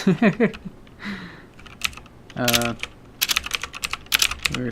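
Keys clatter on a computer keyboard in bursts of quick taps, heard close and fairly loud, with a person briefly talking at the start and noise between the bursts.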